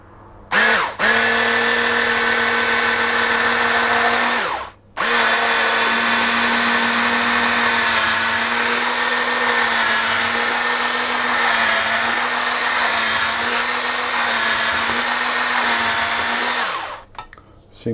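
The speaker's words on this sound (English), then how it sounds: "I'm actually going to try to mash this with my immersion blender" Immersion blender motor mashing food with milk nearby, a steady loud whir running nearly the whole time with one short pause early on, then resuming and cutting off near the end.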